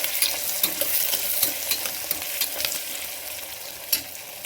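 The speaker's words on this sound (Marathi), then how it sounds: "बारीक चिरलेला कांदा टाकून घ्यायचा. चांगला लालसर होईपर्यंत बघा भाजून घ्यायचा याला." Finely chopped onion frying in a pan, a steady close sizzle with occasional scraping stir strokes, no talking over it.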